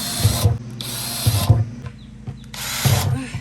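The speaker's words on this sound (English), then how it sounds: "I'm gonna have to drill some holes in the bottom because there's no holes." A power drill boring holes through the bottoms of decorative plant pots before soil goes in, three loud whirring bursts, each about half a second, separated by quieter gaps with low mechanical hum.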